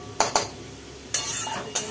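Brahmi greens (water hyssop) are tossed and fried in a pan, with a spatula scraping and clinking against the metal in four sharp, separate strokes over a faint sizzle.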